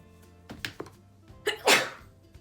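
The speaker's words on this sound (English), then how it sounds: "There's that sneeze I've been waiting on." A single close, forceful sneeze, preceded by a few quick sharp inhales and small clicks.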